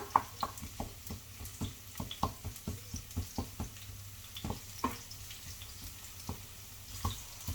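Garlic frying in a pan until brown, a continuous quiet sizzle broken by many sharp crackles and pops spaced irregularly throughout.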